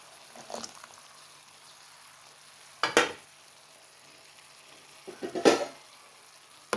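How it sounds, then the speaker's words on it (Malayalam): Custard powder being stirred into boiling milk in a pan for apple pudding: a quiet bubbling background broken by three short, close scraping bursts of the spoon against the pan, with no talk. "തിളച്ച പാലിലോട്ട് കസ്റ്റർഡ് പൗഡർ ഒഴിച്ചു കൊടുക്കുക."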